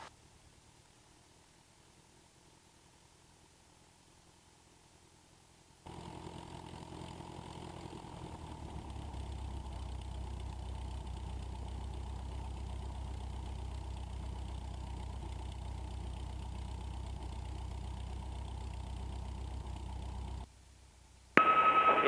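A light aircraft engine runs steadily during the pre-takeoff run-up before departure on runway 27, starting after several seconds of quiet and holding as an even, droning hum near the microphone, with a radio-like burst at the very end.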